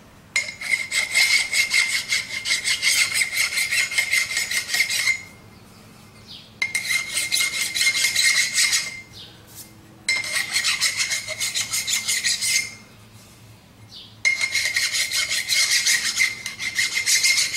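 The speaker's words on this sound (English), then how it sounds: "that's just gonna take a file here and give it a rub" Hand file rasping across a metal motor adaptor to clear burrs during an electric Civic conversion, four long bursts of close scraping strokes separated by short pauses, with no talking.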